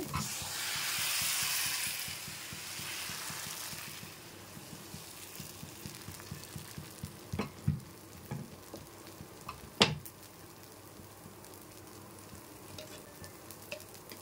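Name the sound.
appam batter sizzling in a heated appam pan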